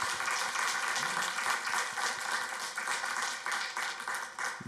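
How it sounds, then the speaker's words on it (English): An audience at a civic community-reading event in Kyle, Texas, claps in sustained, moderately distant applause with a steady texture of many hands throughout. "Could we give them a round of applause?"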